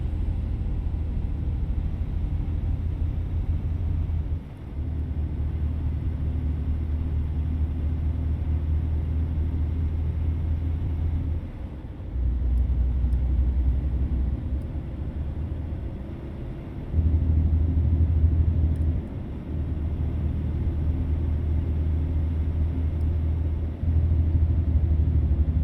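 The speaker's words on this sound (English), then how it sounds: "That truck's pulling the load up the hill pretty good." Heavy truck engine hauling a load uphill in American Truck Simulator, a steady loud low rumble and drone that holds for the whole stretch with brief dips and surges as the revs shift.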